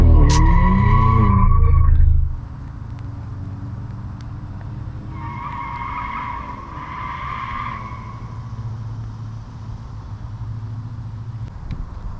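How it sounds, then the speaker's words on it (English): A Honda Accord doing a short burnout, tires squealing loudly at first with wavering pitch, then dropping to a distant engine rumble with faint squeals further away. "I think the cord just did a little burnout."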